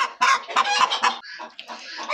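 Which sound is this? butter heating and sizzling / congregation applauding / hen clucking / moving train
hen clucking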